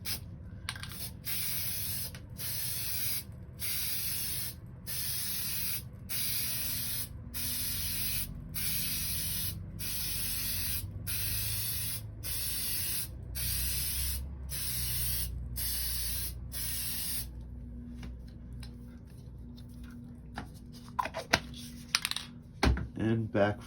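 An aerosol can sprays Plasti Dip in long steady bursts, each hiss separated by short regular pauses. A few clicks and handling knocks follow near the end.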